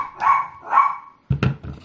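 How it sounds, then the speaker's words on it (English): A dog named Zeus gives two loud, close barks, then a burst of scuffling, jumbled thumps follows. "That's Zeus barking at Hamish for leaving the house."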